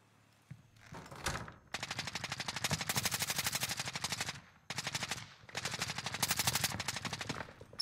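An MP40 submachine gun fires in Warzone, two long sustained bursts of rapid automatic shots, close and loud, separated by a brief pause, with no voices over them.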